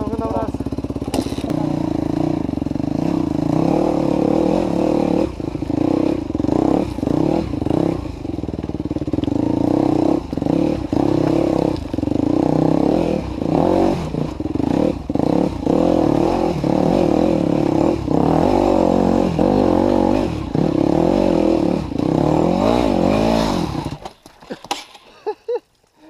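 An enduro motorcycle on a hard enduro training ride, its engine loud and close as it revs, labours and surges with thumps and clatter for most of the run, then cuts away into near silence at the end.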